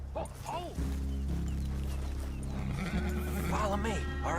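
In a Red Dead Redemption 2 game scene, horses give two clear whinnies, one early and one near the end, over a steady low rumble and background game sound.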